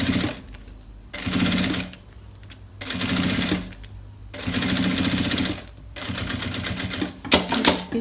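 Sewing machine stitching the lining into a wallet, running in four bursts of rapid mechanical clatter separated by short pauses, close and loud with no talk.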